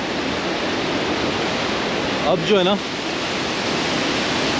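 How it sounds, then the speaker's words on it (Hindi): Fast, high-speed mountain river water rushing through Paddar Valley toward Kishtwar, a loud, dense, continuous roar heard up close, with someone speaking briefly over it. "बहुत ही गजब हाई स्पीड पानी आ रहा है।"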